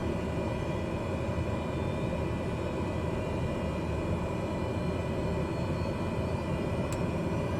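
The turboprop engine of a Cessna 208B Grand Caravan runs in Microsoft Flight Simulator 2020 with a steady, even drone and whine after starting, constant in loudness with no pauses.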